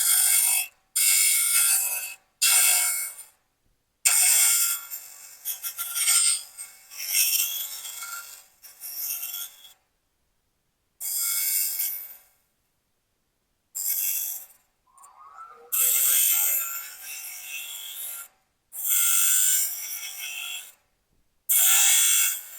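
A wood lathe turns a goblet at about 1500 RPM. Bursts of harsh, hissy cutting and scraping come from the tool against the spinning wood, broken up by silent pauses.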